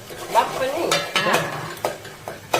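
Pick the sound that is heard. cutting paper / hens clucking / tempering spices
tempering spices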